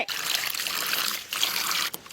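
Plain water trickles and pours steadily while cooking a crispy candy chicken snack, a close continuous splashing stream lasting about two seconds with a brief break near the end.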